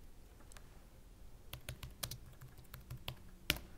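Someone types a folder name on a computer keyboard running Mac OS X Snow Leopard, a quick irregular run of crisp close key clicks after a short quiet pause, ending in one sharper keystroke.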